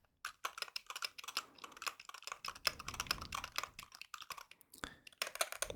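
Close, quiet keystrokes on a Wooting 60HE keyboard patter in uneven bursts of rapid typing with brief pauses, crisp clicks and taps alone.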